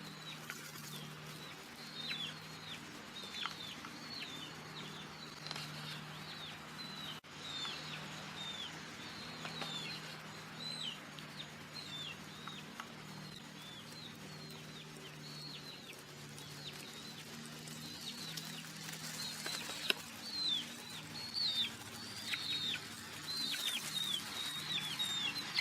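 Several chickens cluck softly and repeatedly at a farmyard, with short chirpy calls scattered throughout over a quiet background hum.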